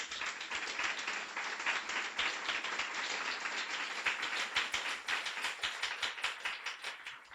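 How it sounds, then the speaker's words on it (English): Warm round of audience applause at a Guiding Eyes guide dog graduation ceremony for sponsor Audie Marks, dense steady clapping from many hands, nearby and sustained for several seconds. "Audie, please stand up for a warm round of applause."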